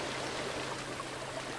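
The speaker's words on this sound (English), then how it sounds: "And of course, there's another waterfall." A waterfall in Uncharted 2 roars steadily, a dense, unbroken rush of falling water that stays loud and even throughout, with no voices over it.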